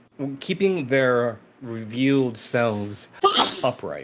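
A single sharp sneeze bursts out near the end, mixed in with several people talking back and forth around a tabletop game session.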